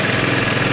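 A lawn mower engine runs steadily at close range, a loud, even droning hum with slight rhythmic pulsing and no voices over it.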